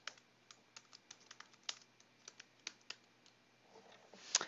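Typing on a computer keyboard while writing an email signature closing, a run of light, irregular key clicks close by, with a slightly louder burst near the end and no talk.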